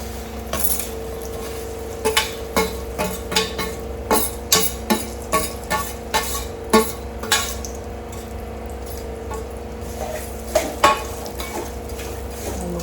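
Finely grated jaggery melts in a pan on a gas stove while a metal spoon scrapes and clinks against it in a steady, rhythmic series of strokes over a soft, continuous sizzle.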